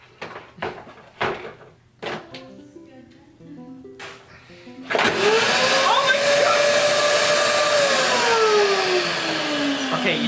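A household vacuum cleaner, rigged to blow air for drying hair, switches on halfway through with a loud, steady whine and rush that rises in pitch and holds. Clicks and knocks from setting it up come before it starts.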